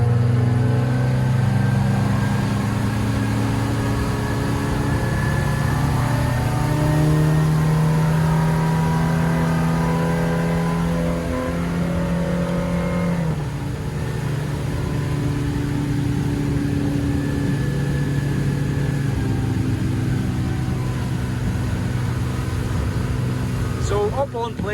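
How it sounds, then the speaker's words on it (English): A Drago 550 Cuddy boat with a 2018 Mercury 60HP EFI outboard climbs onto plane at sea, the engine droning loudly and steadily with a tonal hum that shifts pitch midway, no speech. "let's trim her down and put her up on plane"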